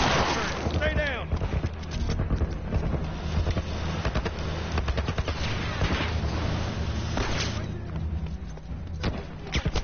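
Rapid gunfire bursts and heavy missile-like blasts from The Last of Us, a dense, loud barrage running almost nonstop with voices talking over it.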